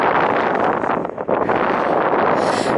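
Strong wind buffets the microphone outdoors beside a river on a country walk, a loud, continuous rushing roar that dips briefly midway before surging back.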